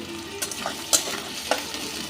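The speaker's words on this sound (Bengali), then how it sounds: "এবার এই পেঁয়াজটা আমি খুব ভালো করে ভেজে নেব।" Large onions frying in a pan with bay leaf and whole spices while cooking a chicken dish with spinach and fenugreek, a continuous close sizzle with a few sharp stirring scrapes and clacks.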